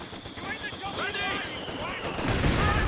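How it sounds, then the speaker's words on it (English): Mortar shells strike in the World War II strategy game Company of Heroes 2, a rumble of impacts and gunfire under a commentator talking. "big hits from the mortar pits"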